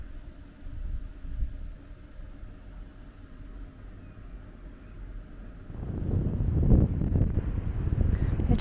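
Wind buffets the microphone in low gusts in Mexico, growing stronger and rougher in the last few seconds.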